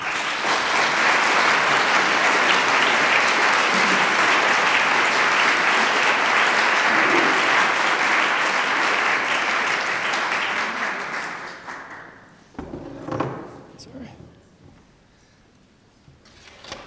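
An audience at an art talk applauds to welcome the speaker, a loud, dense, sustained round of clapping that fades out near the end, leaving a few scattered sounds and room noise.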